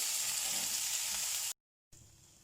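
Steaks sizzling loudly on a sizzler dish heated over full flame, a steady close hiss that cuts out abruptly for a moment before resuming slightly quieter.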